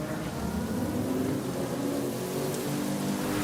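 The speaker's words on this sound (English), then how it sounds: "RSR Zilla is the first one to get caught out by that rain" Rain falling on the track during a racing video game at Spa, a steady hiss of rain mixed with a constant car engine drone throughout, no speech.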